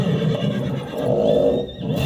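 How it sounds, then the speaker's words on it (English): Horses neigh loudly and agitatedly in a dramatic film scene, a dense, continuous close whinnying over a rumbling background. "Nearby, horses neigh loudly and rear up."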